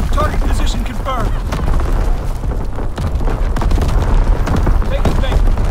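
An artillery barrage in Call of Duty WWII during a Domination match on Shipment 1944: dense, continuous booms and gunfire bursts rumble loudly while voices talk over the battle.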